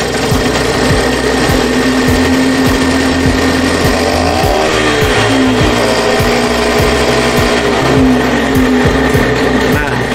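A Vespa scooter engine runs loud and close with a rapid, buzzing mechanical rattle, its pitch climbing and falling midway as the throttle opens, then settling back to a steady idle.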